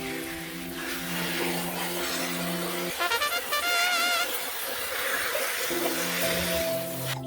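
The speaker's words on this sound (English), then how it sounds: "we need to wash this cabbage. Let's go. You should gently wash it." Cabbage for Korean water kimchi being gently washed under a running tap, steady splashing and trickling water with brief louder sloshes midway as the leaves are handled, close and continuous.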